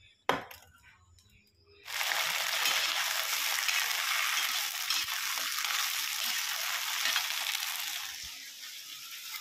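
After a sharp clatter and a moment of quiet, sliced okra hits hot oil and erupts into a loud, steady hiss and crackle of frying close by that continues to the end.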